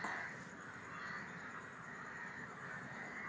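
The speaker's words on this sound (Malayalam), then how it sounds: "ഒരുപാട് കാക്കകളും അവരുടെ കുഞ്ഞുങ്ങളും കുടുംബവും ഉണ്ട് കേട്ടോ" Crows cawing at a crowded roosting colony beside a house, harsh calls repeating over a dense, steady hum of bird noise, with no talking.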